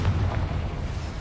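A Confringo spell explodes in Hogwarts Legacy, a deep, muffled boom whose low rumble fills the short moment and fades slightly toward the end, alone without speech.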